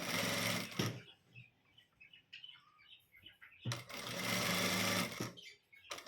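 A sewing machine stitches a blouse lining in two loud, steady whirring runs, the second longer, separated by a quiet pause with faint small clicks and rustles.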